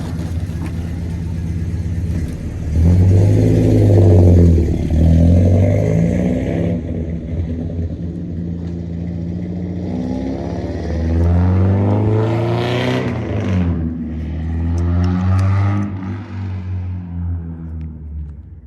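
A Nissan 240SX's engine rumbles from inside the car on a test drive, revving up and easing off in several slow swells as it accelerates and shifts, steady and fairly close throughout.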